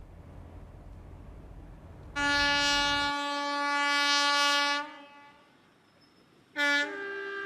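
A passenger train on a railway line rumbles past and then sounds a long, loud horn blast, followed after a pause by a second short honk, with no talking.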